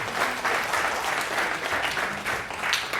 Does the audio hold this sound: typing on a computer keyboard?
no